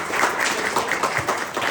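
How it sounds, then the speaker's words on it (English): An audience at a photography opening reception for Jamel Shabazz breaks into steady, full-room applause, a dense wash of clapping that holds throughout at close range. "Come on, give her a round of applause."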